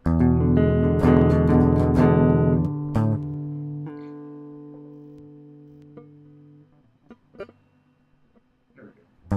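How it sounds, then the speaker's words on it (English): Guitar chords strummed on the bottom four strings during a live practice session, a few bright chords ringing out in the first seconds and then decaying into a long sustained tail, with faint small noises near the end. "Bottom 4 string chords that sound like this right here"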